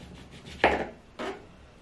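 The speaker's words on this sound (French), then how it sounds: "il faut faire des tranches de citron" A knife slices through a lemon on a cutting board in two close, soft cuts, each a brief wet crunch ending in a light tap on the board.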